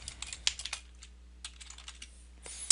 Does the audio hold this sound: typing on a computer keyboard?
yes